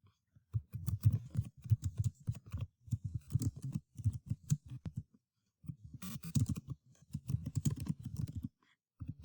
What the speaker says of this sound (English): Now I can start typing my story.